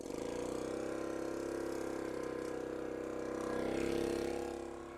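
An air compressor runs weak and strained on low evening voltage, a steady humming drone with even mechanical pulsing that swells slightly toward the end.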